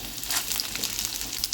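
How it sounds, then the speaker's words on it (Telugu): Sliced onions dropped into hot oil for tomato and moong dal sizzle steadily in a pan, a close, dense hiss with soft crackles and no talking. "ఉల్లిపాయలు అనేది వేసేద్దాం."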